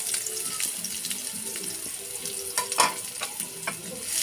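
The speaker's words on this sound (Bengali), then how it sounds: "পেঁয়াজটাকে এখন আমি ভালো করে নেড়ে চেড়ে লাল লাল করে ভেজে নেব" Chopped onions fry in a generous amount of hot oil in a pan, giving a steady close sizzle broken by scraping and stirring clatters as they are turned to brown them.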